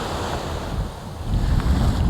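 Sea waves wash onto the shore at East Coast Park beach in Singapore near a canal outlet, a steady broad surf roar mixed with wind noise on the microphone, swelling louder toward the end, with no voices.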